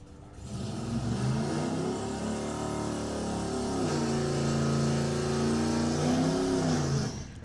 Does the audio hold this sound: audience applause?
no